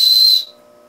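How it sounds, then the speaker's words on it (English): A small whistle built into the sharpener and fire-starter end of a WORKPRO 10-inch survival knife is blown once, giving a loud, shrill, steady tone for under half a second before stopping abruptly. "on both the sharpener and the fire starter, is a whistle at this end here. And I'm going to blow it real quick."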